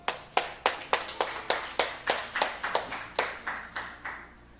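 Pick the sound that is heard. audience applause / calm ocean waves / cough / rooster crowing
audience applause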